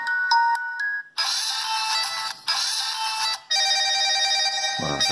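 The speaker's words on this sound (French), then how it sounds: "Ça, c'est la sonnerie standard." Stock ringtone of a ZTE Blade A2S smartphone: a few short tonal notes, then a loud, bright melodic ring that repeats in three sustained bursts with brief gaps, heard clearly with no talking.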